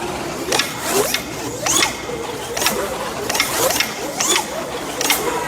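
Race car electric motor with bronze bushings spinning on a bench, a crisp whirring buzz repeatedly revving up and dropping in quick surges, close and fairly loud, with no talk.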